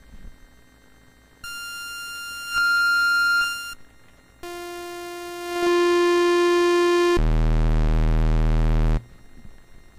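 MIDIbox SID synthesizer feedback patch played unfiltered: a series of loud, buzzy harmonic tones in separate blocks, rising in pitch and then ending in a thick, harsh, noisy bass drone, with no voices.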